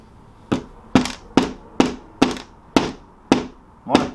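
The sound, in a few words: hammer hitting while building a kids' airplane kit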